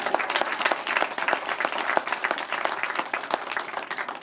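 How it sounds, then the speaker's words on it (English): Wedding guests applaud the bridesmaids, a quick burst of many hands clapping, close and lively, with distinct individual claps standing out through the whole passage. "So a big round of applause for the bridesmaids."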